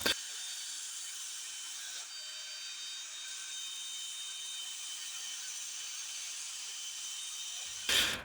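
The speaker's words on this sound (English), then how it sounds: "So I break out my little 2-inch sanding discs." Continuous high-pitched whirring of a small rotary sander with 2-inch sanding discs grinding 2x4 wood, steady and close, with a brief louder burst near the end.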